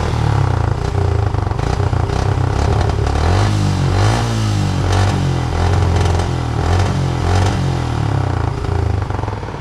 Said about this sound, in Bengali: তো এখন একটু সাইলেন্সারের সাউন্ডটা শোনাবো